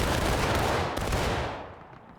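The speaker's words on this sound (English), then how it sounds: "I'm loving these 40-second volleys" A volley of muskets goes off in a Civil War video game, a loud crackling burst of many overlapping shots that fades into a rolling echo and decays within about two seconds.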